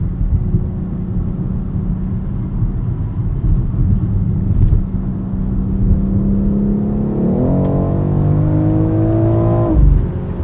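Engine of a 2022 BMW X3 M Competition on the road, a loud steady drone that builds into a rising rev as the car accelerates, then drops off sharply near the end.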